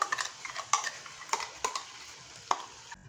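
A spoon clinks and scrapes against a pan as onion-tomato paste is stirred into masala for a mixed vegetable dish, with sharp irregular metallic taps and soft frying underneath, close and fairly quiet.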